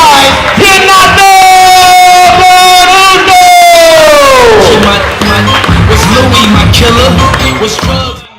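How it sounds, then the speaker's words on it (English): A crowd cheers loudly for both competitors at the Proving Grounds Invitational, with a sustained, pitch-bending yelled voice riding over the noise before the roar tapers off near the end. "give it up for both competitors"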